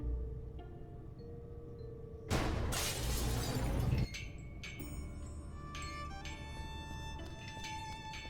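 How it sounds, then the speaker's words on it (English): Glass above a lab door shattering in the adventure game Gibbous, a loud burst of breaking glass lasting under two seconds, followed by scattered tinkling shards over a quiet background hum. "I got rid of the glass above the door to the lab."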